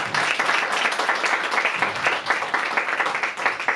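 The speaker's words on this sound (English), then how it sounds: "Let's give a round of applause." Congregation at a Sunday feast program in an ISKCON temple in Ottawa applauding after a class, a dense, steady round of clapping filling the whole moment with no pauses.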